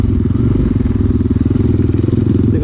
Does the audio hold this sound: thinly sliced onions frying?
no